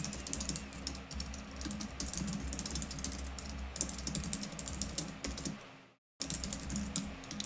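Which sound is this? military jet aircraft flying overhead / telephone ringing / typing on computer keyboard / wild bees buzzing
typing on computer keyboard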